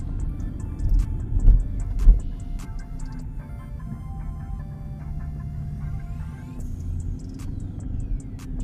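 Low, steady exhaust rumble from a 2023 Chrysler 300C with the 6.4 HEMI V8 during a night drive, a subdued droning throb with faint ticking cabin noises and a few brief thumps.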